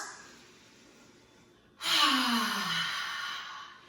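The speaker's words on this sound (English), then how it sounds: "Let's do 4 ha breaths to empower our heart." A forceful yoga "ha" breath exhaled through the mouth after a quiet pause, loud and breathy, trailing off slowly over a couple of seconds.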